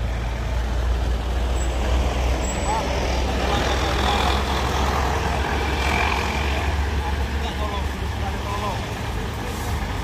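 Loud, steady dump truck engine rumble, close by and continuous, with a faint air brake hiss mixed into heavy road noise and no talk.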